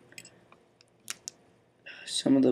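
Scissors snipping off hackle fibres while tying a fly, a few quick, faint close clicks followed by a person starting to speak.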